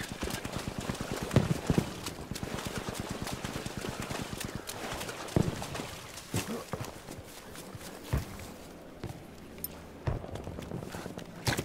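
Horse hooves clip-clopping in a video game, a quick steady run of close hoofbeats that slows and thins toward the end, with no talking over it.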